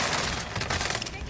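Rapid gunfire in a video game, a dense burst of shots filling the whole moment, loud and continuous.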